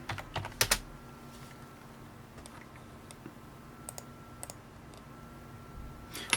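Fingers type on a computer keyboard in short clattering bursts, with a quick cluster at the start and scattered keystrokes and clicks afterward over a faint electrical hum, no talking.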